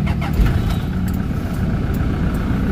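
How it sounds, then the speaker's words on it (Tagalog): A Toyota Fortuner engine with a low-power fault idles steadily just after starting, a loud, close, continuous rumble with no talk over it. "so far okay na yung andar ng makina"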